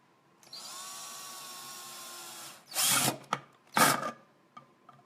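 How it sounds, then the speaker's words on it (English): A power drill whirs steadily for about two seconds during a jar and bottle upcycling craft, followed by two short bursts of louder drilling or grinding into material, heard up close. "let me finish with the drill."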